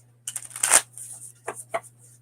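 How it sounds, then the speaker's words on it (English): A deck of playing cards is shuffled in a few quick bursts: a dense riffle up front, then two short separate flicks, near and fairly quiet, with a steady low hum underneath. "I'm trying to make it through a shuffle with nothing coming out"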